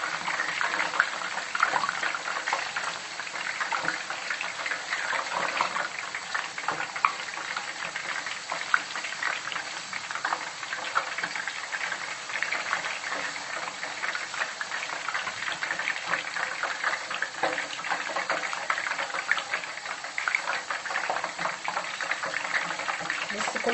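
Thinly cut homemade potato chips fry in hot oil, giving a steady, dense sizzle and bubbling that carries on evenly throughout at moderate loudness with no talk.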